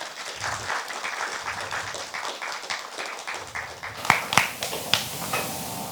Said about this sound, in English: I just want to give them a round of applause